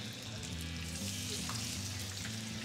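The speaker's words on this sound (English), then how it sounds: "nice sizzle." Pork medallions sizzling in a hot pan, a steady close crackling fry with constant bubbling hiss.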